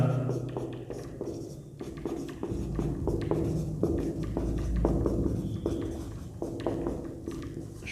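Someone writes on a board during a class 10 probability lesson, making a series of short scratching and tapping strokes close by, with faint room noise around them.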